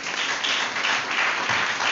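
A church congregation applauds to acclaim the word of God, a steady wash of clapping from many hands that holds at an even level for the whole two seconds, with no distinct voices.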